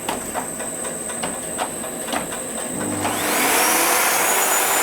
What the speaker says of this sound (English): Of course, start the vacuum cleaner